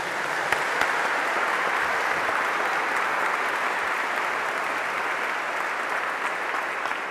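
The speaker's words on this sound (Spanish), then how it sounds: "Dale un aplauso a Jesús y a María fuerte." Loud, steady applause from a church congregation or prayer group, continuous clapping filling the whole stretch at even strength with no talk over it.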